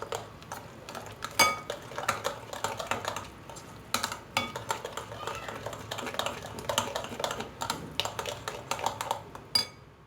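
Oil being mixed into an eggless cake batter with a utensil in a bowl, quick irregular clinks and scrapes against the bowl, close but fairly soft, without speech.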